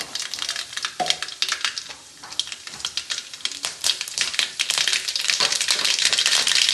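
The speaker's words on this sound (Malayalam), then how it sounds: "എണ്ണ നന്നായി ചൂടായിട്ടുണ്ട് അതിലേക്ക് ഞാൻ ഒരു സ്പൂൺ കടുക് ഇടുന്നുണ്ട്" A spoonful of mustard seeds crackles and spits in well-heated oil while a papaya and carrot pickle is being made. Sharp, irregular pops come close up and grow denser and more continuous toward the end.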